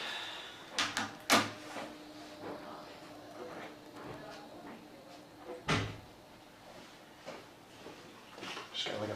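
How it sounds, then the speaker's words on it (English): An office door being shut, with a few sharp knocks and clunks early and one louder thump in the middle, heard close over a quiet room with faint voices. "I'm going to shut this door"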